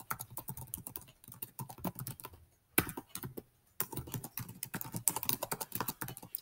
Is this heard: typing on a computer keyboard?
yes